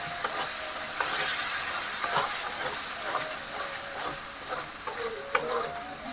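Spices sizzling and hissing in a pan on lowered heat after a splash of water, a steady broadband fizz with scattered stirring scrapes and a small clink near the end, no talking.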